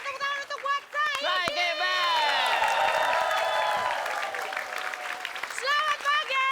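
An audience at a comedy stage show applauds and cheers in a dense burst of claps and voices. Stage talk comes before and after the noise.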